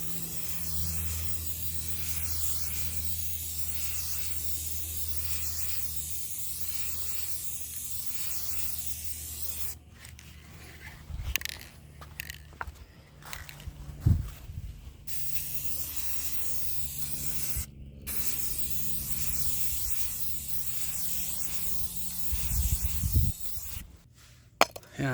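A spray can lays clear coat onto a car in a long, steady hiss. Later the spraying breaks into shorter bursts with pauses, knocks and handling noises, and no one speaks.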